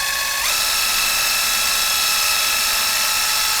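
A DEWALT drill bores and countersinks into aluminum with a continuous high whine that shifts pitch as the cutter bites, steady and loud for several seconds with no voices.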